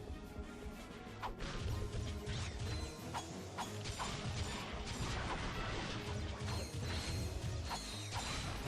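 Crates being smashed open in the video game Ratchet and Clank: Going Commando, a rapid run of loud cracks and thwacks with metallic clatter over busy game music and effects.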